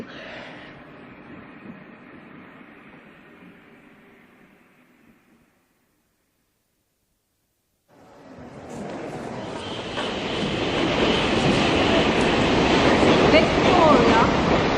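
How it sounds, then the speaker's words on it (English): Boat train from Dover pulling into a platform at Victoria station, a rising rumble of wheels and carriages that starts after a quiet gap and grows louder and closer, with fainter station ambience earlier. "The train arriving at platform 5 is the boat train from Dover."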